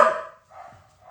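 A dog gives one sharp bark up close, followed by a fainter, softer second vocalization a moment later, in otherwise quiet surroundings.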